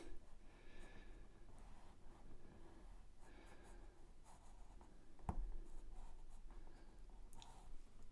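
A magenta pencil scratches across paper in steady, soft strokes during a portrait sketch, nearby and quiet, with short pauses between strokes and one sharp click partway through.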